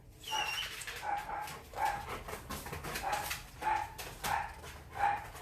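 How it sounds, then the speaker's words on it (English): Several short dog barks and yips ring out at intervals, moderately close, over a faint background hiss. "Sorry for the dogs."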